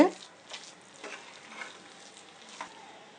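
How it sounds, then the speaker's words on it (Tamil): Cucumber rice is stirred with a spoon of ghee in a hot pan, producing a soft sizzle with several scraping stir strokes spaced about half a second apart, close but quiet, with no talk. "நல்லா 1 ஸ்பூன் நெய் ஊற்றி அப்படியே கலந்துட்டு எல்லா பக்கம் அப்படியே ஒரு கிண்டி விட்டுட்டு"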